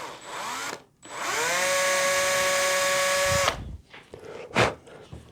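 A power drill fitted with a 1.5mm bit bores small tuner holes in a guitar headstock, two bursts of high whining spin, the longer one steady for about two seconds, then winding down, with some handling clatter after.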